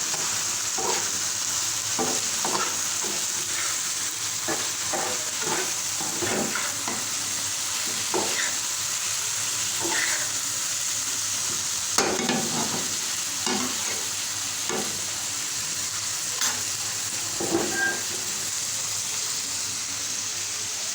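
Bitter gourd (karola) fries gently in oil on a low flame, giving a steady soft sizzle with intermittent scrapes and taps of a spatula stirring now and then.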